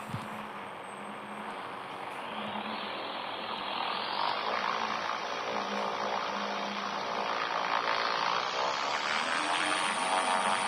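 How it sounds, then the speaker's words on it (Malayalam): A propeller-driven plane in a 3D zombie bike video game takes off, its engine drone rising steadily in pitch and loudness and holding a loud, continuous hum to the end. "ഓക്കെ, പ്ലെയിൻ പറന്നു തുടങ്ങി."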